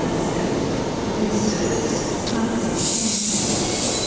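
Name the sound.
train departing on the Midland line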